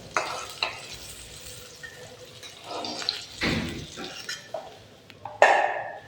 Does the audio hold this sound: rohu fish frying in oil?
yes